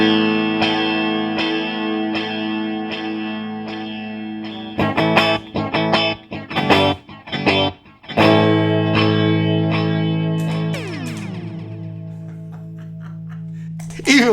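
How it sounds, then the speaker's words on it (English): Electric guitar chords played through a space echo effect on a pedal, ringing with repeating echoes and reverb, interrupted by choppy strums midway, then sustained notes trailing off in washy repeats. "A little space echo."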